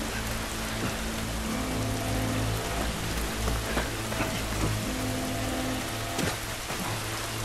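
Steady rain in a video game pours down continuously with a dense hiss and occasional heavier drop impacts, no voices.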